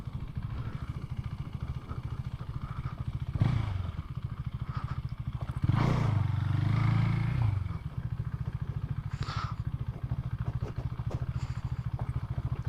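Husqvarna Svartpilen 401 motorcycle ridden off-road in the city, a steady engine drone running throughout with a couple of louder surges and rough clattering thumps over uneven ground, no talking.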